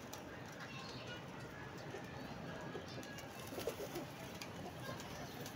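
Blue pigeons coo softly against a steady, noisy outdoor background while people talk nearby.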